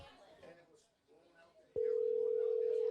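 A telephone dial tone starts abruptly partway through and then holds, loud and steady, while a call is placed to a Kyle Busch fan; quiet talk and room noise come before it.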